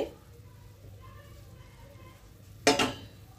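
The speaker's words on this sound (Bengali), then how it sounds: "কড়াইয়ে ঢাকনা খুলছি।" A metal lid lifted off a kadai of steaming mixed vegetables for thuppa, a single sharp clatter near the end after a stretch of quiet kitchen hum.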